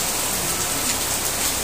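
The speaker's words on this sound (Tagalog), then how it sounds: "Grabe lakas ng ulan" Heavy rain pours down in a steady, dense roar, loud and close, with no break across the short stretch.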